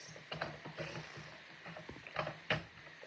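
A paper trimmer slices cardstock with a few quick, faint clicking and scraping strokes, the blade sliding in short bursts in a quiet room during card making.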